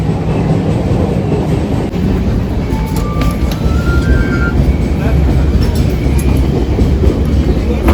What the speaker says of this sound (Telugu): సో ట్రైన్ అయితే స్టార్ట్ అయిపోయింది. ఊగుతున్నది.